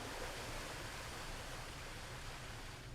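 Steady, dense rushing water of a babbling brook beside a working watermill in a Cotswold village, a continuous broadband wash with no pauses and no voices.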